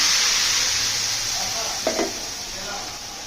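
Boiled lentils go into hot oil in a pan where mustard seed was fried, a loud steady sizzle with a brief splashing burst as they hit, then the frying settles into a continuous hiss.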